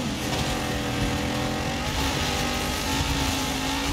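A racing video game's car engine revs loud and continuous, a steady buzzing roar with shifting pitch and no talking.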